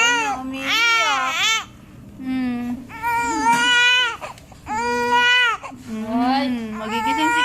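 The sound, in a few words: baby crying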